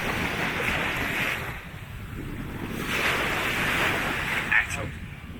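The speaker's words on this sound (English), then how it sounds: "So there we have it, Banana Beach. Beautiful little spot." Ocean surf washes in soft, rolling swells at Banana Beach in Phuket, Thailand, a steady hiss rising and falling under gusty wind noise on the microphone.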